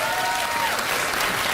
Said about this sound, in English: Why did they applaud?